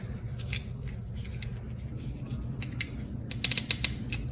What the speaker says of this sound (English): Just start it, and then screw it on down.